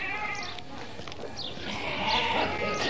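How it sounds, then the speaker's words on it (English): Sheep bleat over a busy outdoor background of murmuring voices and shuffling during a village fiesta roundup in Spain, with a few louder cries rising toward the end. "they were rounding up the sheep to pen them in for the day"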